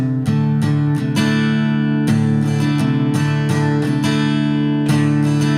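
A guitar plays a repeating riff, ringing, rhythmic strummed notes, close and clear, with no voices.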